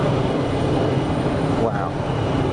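An airliner climbs out after takeoff from Geneva Airport, its engines giving a loud, steady roar throughout with a voice talking over it.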